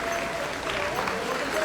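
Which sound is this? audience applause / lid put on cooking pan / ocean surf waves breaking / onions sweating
audience applause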